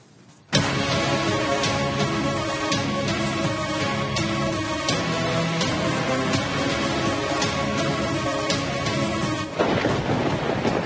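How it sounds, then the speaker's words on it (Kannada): Heavy rain pours during a thunderstorm in Bengaluru, a loud, dense roar that starts suddenly and runs unbroken, marked by sharp crackling bursts and a brief dip near the end. "ಬೆಂಗಳೂರು ಮಾತ್ರವಲ್ಲ, ರಾಜ್ಯದ ವಿವಿಧೆಡೆ ಮಳೆ ಸಿಕ್ಕಾಪಟ್ಟೆ ರಗಳೆ ಸೃಷ್ಟಿಸಿದೆ"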